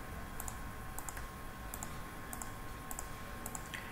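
Computer mouse clicks while working in trading software on a PC, several quick faint clicks in small pairs spread over a few seconds against a steady background hum, with no talk.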